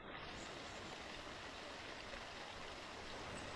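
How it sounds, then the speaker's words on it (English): A Northern California stream flows in a steady, even rush of water, continuous and fairly faint, with no talking. "As we listen to the birds and the water here,"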